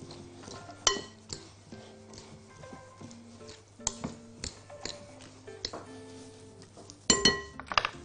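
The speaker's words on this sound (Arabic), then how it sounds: "احطهم عندي في البوله هجيب عندي معلقه واقلب" Leafy salad with dressing tossed in a bowl with a spoon, giving irregular clinks and taps of metal against the bowl, with a few louder knocks near the end and a low background hum.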